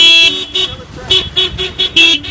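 Snowy blizzard street traffic with car horns honking in short repeated toots, loud and close, several beeps in a choppy rhythm over engine rumble.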